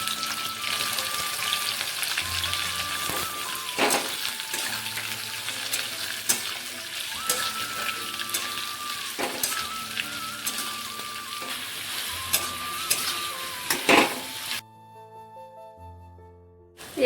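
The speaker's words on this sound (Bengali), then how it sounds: "এবারে কেটে রাখা পেঁয়াজগুলো দিয়ে দিচ্ছি" Chopped onions dropped into hot oil with whole dry chillies, cumin, cinnamon and cloves for a Bengali mutton curry, sizzling and crackling steadily with occasional stirring scrapes, then quieting near the end as background music plays.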